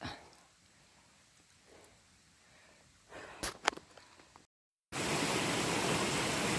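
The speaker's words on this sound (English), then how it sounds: "it looked like a little waterfall, but they're really just cascades" A spring creek tumbling over small cascades like a little waterfall: a quiet outdoor stretch with a few brief knocks, then a steady, loud rush of water.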